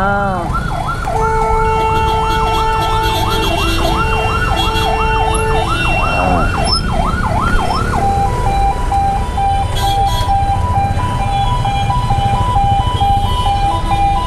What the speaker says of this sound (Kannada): ಓ ಆಂಬುಲೆನ್ಸ್ ಬರ್ತಿದೆ ಗುರು,